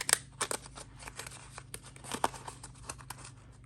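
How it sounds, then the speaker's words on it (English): Scissors snipping through paper in a quick irregular series of crisp cuts, close and fairly quiet, with faint crinkling between snips. "We could even use these fun little scissors."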